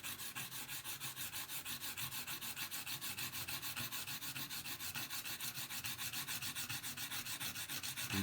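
Plexiglass is sanded by hand on a Matchbox Morgan Plus 8 roadster model, giving a close, rhythmic rasping scrub with regular back-and-forth strokes repeating steadily throughout, with no talking.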